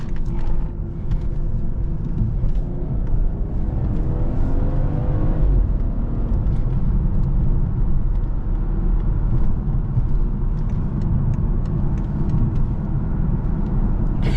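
A BMW 540i xDrive accelerates hard with its tires sliding on the road, giving a steady loud engine rumble and roar that holds throughout with no one talking.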